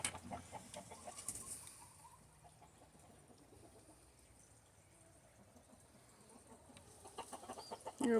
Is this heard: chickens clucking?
yes